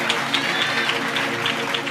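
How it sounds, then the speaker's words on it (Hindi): A church congregation claps loudly in praise during a Hindi Bible study gathering, a dense, even burst of applause with crowd noise behind it, close and sustained. "जोरदार ताली बजाकर परमेश्वर के लिए महिमा करे"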